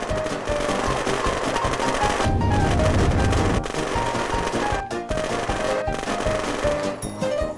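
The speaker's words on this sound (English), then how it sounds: "Machine gun! Machine gun!" Rapid automatic gunfire from the video game Unturned, continuous loud bursts with dense explosive crackle throughout, close and aggressive, with no talking.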